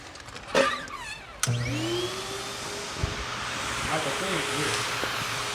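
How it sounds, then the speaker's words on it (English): A vacuum cleaner in a garage switches on with a loud whoosh and keeps running steadily with a droning whine, after a few brief sounds before it starts. "Let's get the vacuum."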